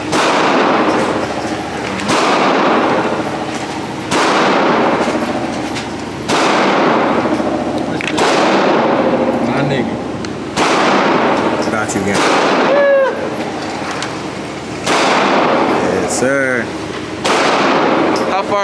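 Repeated loud gunshots from a handgun fired at a shooting range, about eight sharp cracks spaced roughly every two seconds, each with a short decaying tail, while people talk between shots.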